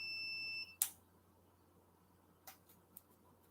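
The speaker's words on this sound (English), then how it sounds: "My chair's beeping." An electronic chair indoors gives a steady high beep that cuts off into a sharp click, followed by a few faint ticks and taps in a quiet room.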